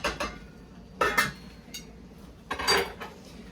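A utensil scrapes and clinks against a cooking pot of cabbage in three short bursts of stirring, about a second apart, with quiet kitchen background between.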